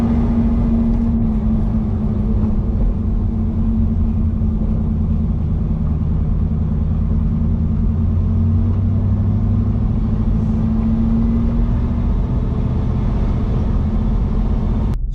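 A Jeep cruises along at steady speed, a continuous low engine rumble and road noise from inside the cabin with little change throughout.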